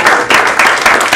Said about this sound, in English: I personally would like to applaud the speaker tonight for really trying his best to convey these ideas.